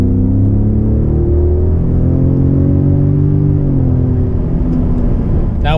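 A Ford Raptor with an EcoBoost engine accelerates hard, a loud, close, steady drone of engine and road rumble that climbs in pitch, dips briefly at a shift, then keeps building, with no talk.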